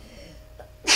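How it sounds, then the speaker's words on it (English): A woman sneezes once in the background, a short sharp burst at the very end after quiet room tone. "It's my wife in the background sneezing."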